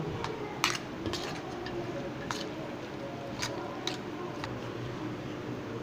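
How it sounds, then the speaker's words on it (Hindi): Shredded cabbage coleslaw is mixed with mayonnaise in a bowl, producing soft wet squishing with scattered light spoon clicks against the bowl over a steady background hiss. "अभी इसको मैं अच्छे से मिक्स कर लेता हूँ कैबेज के साथ सारा"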